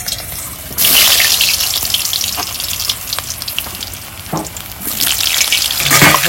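Potatoes dropped into smoking-hot oil burst into a loud, bright sizzle that settles into a steady crackling fry, with a few clinks and stirs, surging again toward the end.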